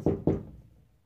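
Two quick knocks on a door, dull and woody, close by and followed by a short fading decay with no voices.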